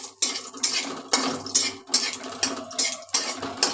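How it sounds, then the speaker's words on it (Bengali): Whole spices, cloves and a small cinnamon stick, are stirred in a pan, a close, rhythmic run of metallic scraping strokes, about a dozen in quick succession with short pauses between. "একটু নাড়াচাড়া করে নিচ্ছি হালকা"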